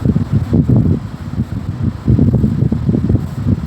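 An electric fan running indoors near pigeons, a loud low rumbling whoosh of moving air that pulses unevenly as it buffets the microphone, with no talking.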